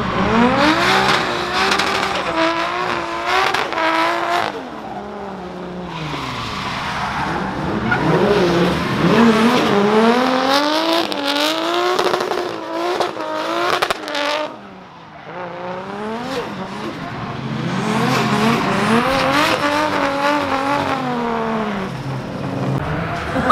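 A rear-wheel-drive Subaru drifting, its engine revving hard in rising and falling sweeps with tire squeal throughout, loud and close, with a brief dip in the middle.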